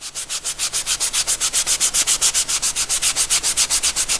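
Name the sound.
rubbing edges of cutout with Scotch-Brite pad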